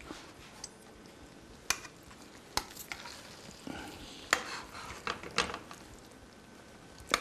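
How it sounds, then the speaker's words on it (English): Stirring a tomato-based dish in a pan with a utensil after fresh pepper is ground in: soft scraping and occasional sharp clinks against the pan, with faint sizzling underneath, close up and moderately quiet. "Stir it up"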